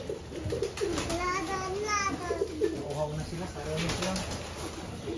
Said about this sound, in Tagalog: natatrowback ako sa ingay ng kalapati.